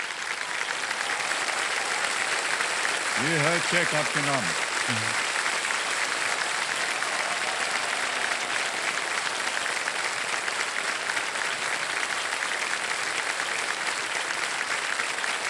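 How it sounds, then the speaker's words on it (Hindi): A KBC game show studio audience keeps up continuous, even applause throughout, with a voice speaking briefly over the clapping early on. "ताली बजती रहे इनके लिए"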